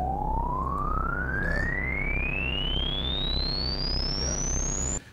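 Synthesizer tone with a resonant filter controlled by the envelope, sweeping smoothly upward in one long continuous rise over a steady buzzing, pulsing bass, then cutting off abruptly at the end.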